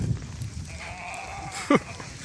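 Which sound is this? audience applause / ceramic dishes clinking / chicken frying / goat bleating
goat bleating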